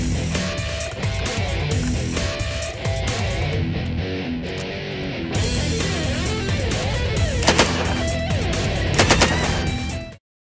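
A Bren light machine gun in its L4A4 conversion, an updated Mark III chambered for 7.62mm NATO, fires long loud bursts of rapid automatic shots that run almost unbroken before stopping abruptly at the end, with no talking.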